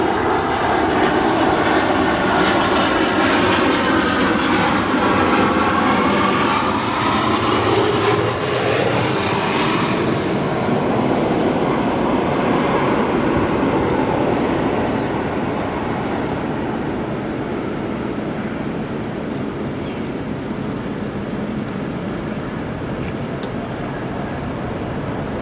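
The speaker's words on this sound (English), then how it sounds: "Nice arrival with the wind for that 787 as he applies the thrust reversers." A Boeing 787 lands at Chicago O'Hare and applies its thrust reversers, producing a loud, sustained jet roar with a shifting whine that swells and then gradually eases as the aircraft slows, with no voices.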